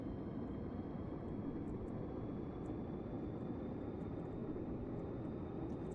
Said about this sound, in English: We're going to taxi out with a Rotodyne.